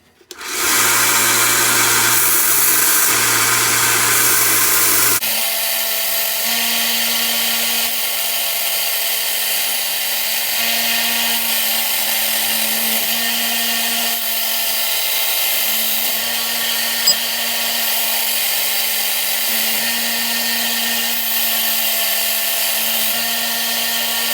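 Restored axe head ground on a 120 grit abrasive, a loud continuous high-pitched whine of a powered sharpener running steadily throughout with a brief louder start.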